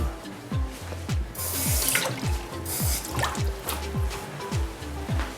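Tap water runs over a sprig of coriander in a kitchen sink, a close, steady stream with rhythmic splashing and pattering as the herb is rinsed under it.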